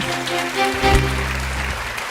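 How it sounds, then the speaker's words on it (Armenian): Brief applause from the audience at a women's award ceremony, a short burst of clapping over background music. "Ծափարությունները"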